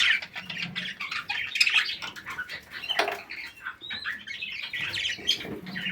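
Budgerigar chicks squawk and chirp continuously, a dense chorus of raspy calls with a little fluttering, close and moderately loud.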